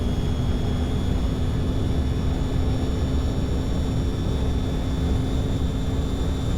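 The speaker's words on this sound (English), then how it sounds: "That's probably one of the smoother landings I've had in this airplane." Steady broadband engine roar with a constant mid-pitched drone from an airplane during touchdown and rollout in the X-Plane 10 flight simulator, loud and unbroken, with no talk.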